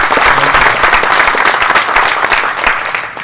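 A crowd gives sustained applause for event staff and volunteers, a dense, loud wash of many hands clapping evenly from start to finish with no break.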